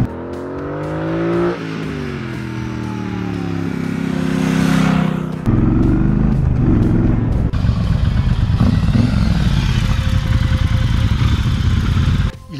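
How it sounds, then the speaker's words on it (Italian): A 2017 Triumph Bobber motorcycle engine revs up through rising gears on a road, loud and close, then settles into a steady, rough drone. "e la moto sale di giri"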